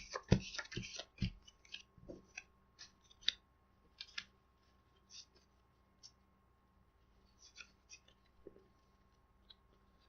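A deck of game cards for the print-and-play tabletop game Airborne in My Pocket is riffled and shuffled close by, a burst of quick crisp flicks early on followed by scattered lighter taps and card slides.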